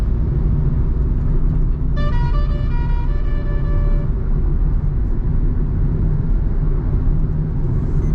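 A car climbs the Malshej Ghat road under a constant engine and road drone. A horn blares steadily for about two seconds midway, then the vehicle noise carries on alone.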